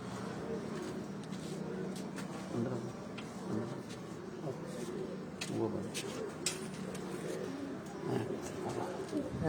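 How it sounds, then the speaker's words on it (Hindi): A Galva pigeon coos in soft low repeated calls at moderate distance, mixed with faint ticks and background voices talking. "मियाँ नजफ साहब होरां दे घर दा गलवा कबूतर है जी।"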